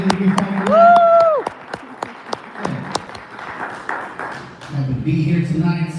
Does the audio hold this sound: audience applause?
yes